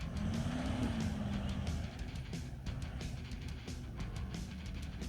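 A car drives out of a riverside camp on the Murray River along dirt tracks, its engine rumbling close and fairly loud, dipping slightly partway through, with scattered crunching and knocking from the ground.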